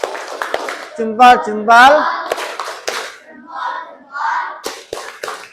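An Indonesian classroom group performs the 'tepuk hebat' clap chant, with quick bursts of hand claps mixed in among loud, close chanting voices.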